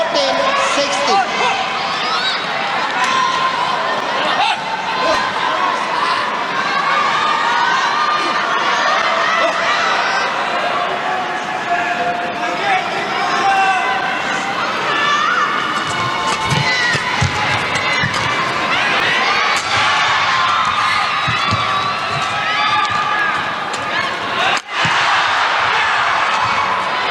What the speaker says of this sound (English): Well, listen to that crowd.